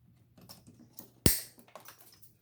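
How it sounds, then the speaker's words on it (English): A plastic cable tie zips tight around a motorcycle wiring harness and the excess tail is snipped off, a soft ratcheting series followed by one sharp, close cutting snap and a few light handling clicks. "And wire tie it. And cut off the excess."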